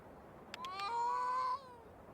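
A single drawn-out cat meow in the video game A Space for the Unbound rises and holds, clear and fairly close, after a few quick clicks, in otherwise quiet surroundings.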